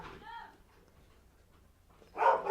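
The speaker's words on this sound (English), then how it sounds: "apologies for the dogs" Dogs bark in a home during a late-night football watchalong, with a short burst of barking at the start and a louder bark near the end, separated by a quiet stretch.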